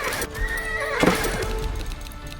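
Horses in the video game Age of Empires IV whinny and neigh loudly up close, with a sharp high neigh in the middle and clip-clopping hooves underneath.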